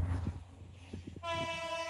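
The Bijoy Express intercity train from Chattogram to Jamalpur rumbles closer, then sounds a loud, sustained horn blast that fills the last half of the clip.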